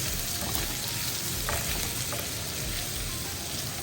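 Potatoes sautéing in a pan with chilli powder, coriander powder, asafoetida and salt, giving a steady, close sizzle with a few soft stirring scrapes and no talking.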